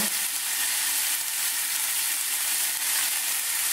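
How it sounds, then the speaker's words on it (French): Duck aiguillettes fry in sunflower oil in a pan, giving a dense, continuous sizzle that stays loud and steady throughout with no talking. "je vais faire cuire les aiguillettes dans la poêle. Dans la poêle, avec un peu d'huile de tournesol"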